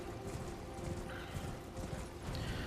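Horse hooves clip-clop at a steady galloping rhythm while riding in Elden Ring's Shadow of the Erdtree, with a faint whinny, fairly quiet and continuous under a soft game background.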